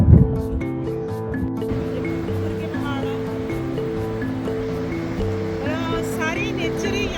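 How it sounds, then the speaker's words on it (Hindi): A mountain waterfall near Kugti village in Bharmour, Himachal, roars as a broad steady rush beneath music that plays over it throughout. "ये देखिए, आपको यहाँ झरना दिखा रहे हैं"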